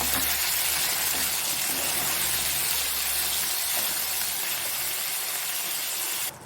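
A pan of soya roast curry bubbling on the stove, a steady loud hiss and sizzle with a constant bubbling texture that runs unbroken until a slight drop at the very end.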